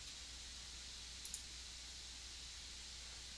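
A computer mouse gives one quick, faint click, a short double tick over a quiet background hum.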